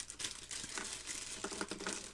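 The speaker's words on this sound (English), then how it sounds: "So we'll just cut this bag open." Plastic bag of craft pieces for an Easter wreath being cut open, giving faint close crinkling and rustling with no talk.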